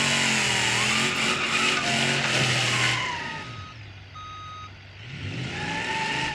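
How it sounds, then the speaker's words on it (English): Reverse beeper on a homemade squatted truck in BeamNG.drive, repeated electronic beeps over a droning engine that drops in pitch and then picks up again. "it has a reverse beeper"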